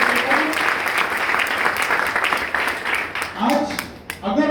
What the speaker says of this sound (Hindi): उनके लिए जबरदस्त तालियां होने चाहिए।